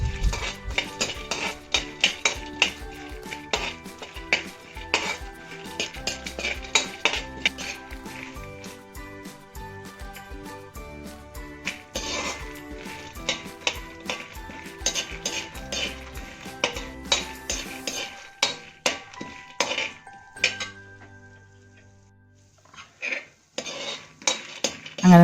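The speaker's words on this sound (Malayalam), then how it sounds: "നമുക്ക് നമ്മുടെ കപ്പലണ്ടി പരിപ്പ് ഇതിൽ തന്നെ വറുത്തെടുക്കാവേ" Peanuts frying in ghee in a pan while being stirred for a Kerala snack: a busy, continuous clatter of a spoon scraping and tapping the metal pan under a soft sizzle, which thins out near the end.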